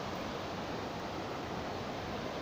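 A waterfall pours in a steady, even rush of white noise, faint and distant, with no other sounds breaking through.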